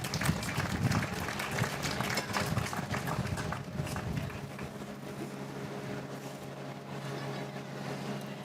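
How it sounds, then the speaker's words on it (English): Applause from the audience at a rice festival beauty pageant, a dense broadband patter of clapping that runs loud for about four seconds, then thins into a softer, steady crowd wash. "Let's give all of them a big round of applause."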